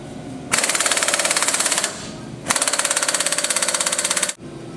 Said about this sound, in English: Personally, I like to use a 120-pound torque stick to tighten these down with.